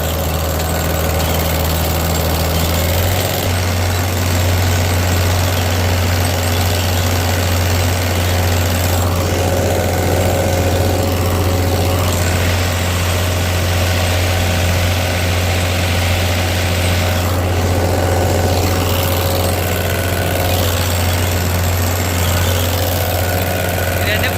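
A tractor engine running steadily close by, a loud low continuous drone with a change in tone early on and persistent mechanical vibration throughout.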